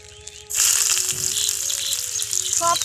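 Onion dropped into hot oil in a wok for chowmein in a small kitchen, a sudden loud burst of sizzling that keeps crackling steadily, with a brief clatter near the end.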